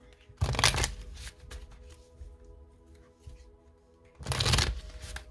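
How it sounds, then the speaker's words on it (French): Oracle cards are shuffled in two brief riffling bursts separated by a quieter stretch, close up and with no talking. "Alors, je les mélange bien parce que ces cartes, je les interprète à l'endroit et à l'envers."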